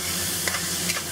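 Ground pork seasoned with dark soy sauce sizzles steadily in a hot pan, a dense continuous hiss with a couple of soft scrapes as a spatula breaks up the clumps.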